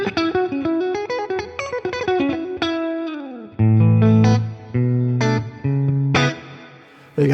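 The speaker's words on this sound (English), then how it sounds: "And then this plate reverb, it's worth downloading just for this plate reverb." Electric guitar through an IK Multimedia TONEX amp modeler with a plate reverb, playing plucked notes and chords that ring out with a lush, smooth tail, loud and alone.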